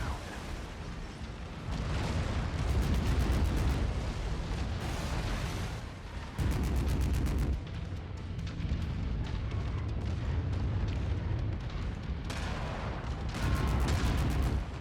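A reactor exploding in a video game, heard as long rumbling booms and crackling bursts that roll on for many seconds at a steady, fairly distant level, with repeated pulses of sharper blasts.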